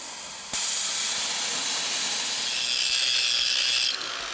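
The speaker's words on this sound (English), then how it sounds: "Out comes the plasma cutter" A plasma cutter bursts into a loud, steady close hiss as it cuts the motor mounts off a 1966 Ford Bronco frame, then cuts out abruptly after a few seconds.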